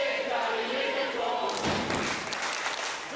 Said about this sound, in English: Crowd making their persuasions known.